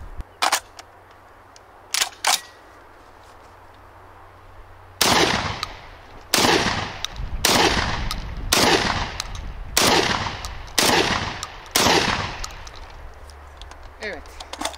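Shots from a Serengeti Legion P120 rifle crack sharply one after another, about eight loud close reports in a steady series after a few fainter clicks, with someone speaking between them.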